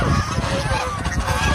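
Geese being carried off by hand give repeated harsh honks and squawks, close and fairly loud, in a steady burst with a noisy background.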